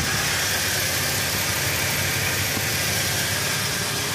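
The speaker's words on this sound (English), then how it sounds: "Motor runs fantastic." The engine of a 2000 Toyota Tacoma SR5 pickup with about 70,000 miles runs steadily, a loud, even drone close by with no talking.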